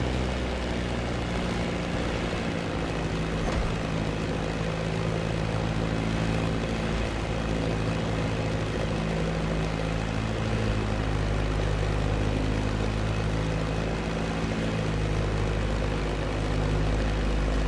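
A Beechcraft Staggerwing propeller plane from the racing game The Crew Motorfest drones steadily and loudly throughout, a thick, continuous engine roar with no talking.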